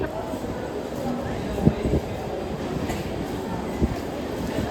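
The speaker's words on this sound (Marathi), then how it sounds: "12 डब्यांची अंबरनाथला जाणारी जलद लोकल आहे" Rumbling 12-car fast local train to Ambernath at a Kurla station platform, with metallic clanks and clicks of rail cars under a busy, echoing station ambience.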